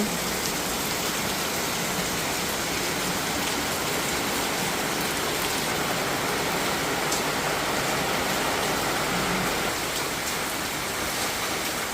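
Steady rain falls continuously, a dense, even hiss of drops on surfaces with no voices.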